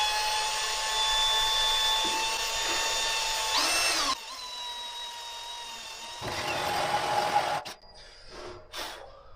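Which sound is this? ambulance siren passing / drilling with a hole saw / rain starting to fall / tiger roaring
drilling with a hole saw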